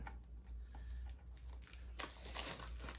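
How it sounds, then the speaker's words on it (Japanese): Scissors cut into the sealed plastic wrapper of a Pokémon card booster box, giving a soft, close crinkling and tearing rustle with no talk. "ハサミを入れる。"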